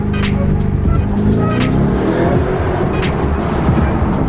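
A 2020 Lamborghini Urus SUV's loud, deep engine roar with rumbling exhaust, revving and echoing steadily inside a tunnel, with brief crackles on top.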